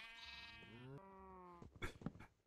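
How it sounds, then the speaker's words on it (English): A baby sheep in the video game Minecraft bleats in a quavering, wavering tone, followed by a few short thumping sounds; quiet and close, with no voices. "The baby sheep are funny."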